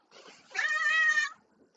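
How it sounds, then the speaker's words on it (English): A house cat lets out a single loud, drawn-out meow lasting under a second, close to the listener in a quiet room, with faint softer vocal sounds just before it. "My cat is loud."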